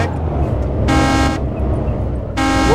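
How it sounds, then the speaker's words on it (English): Car horn in the zombie survival game DayZ blares in two sustained honks, one long blast near the middle and another at the end, loud over a steady rumbling engine and road noise. "Don't honk the horn anymore."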